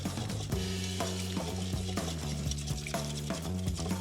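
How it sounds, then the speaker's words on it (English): Eggs, vanilla extract and sugar being mixed together in a bowl, a steady close swishing and stirring with rhythmic strokes over a low background hum, no talking. "I'm gonna mix this together."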